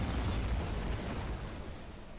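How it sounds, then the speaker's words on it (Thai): A dull, rumbling car explosion in the Roblox video game fills the clip, its low roar slowly fading over a couple of seconds, heard alone without voices. "รถระเบิดเฉยเลย"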